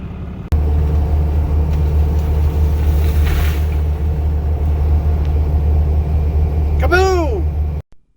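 A Kubota vehicle's engine rumbles loud and steady while pulling a stuck log truck free in snow, a continuous low drone with a brief rising whistle-like whine near the end before it cuts off.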